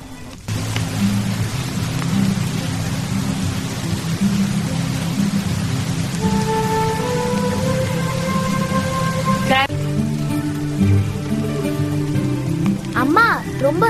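Steady rain falls around a cottage home in the mountains, a continuous hiss under talk, with a voice speaking and a brief melodic tone partway through.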